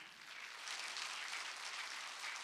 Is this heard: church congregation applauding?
yes